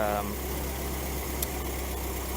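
Idle of a 1990 VW Fox with a mild performance build, a lopey cam, and 034 Motorsports motor mounts: a steady, loping low rumble that runs the whole time with no revving, close to the engine.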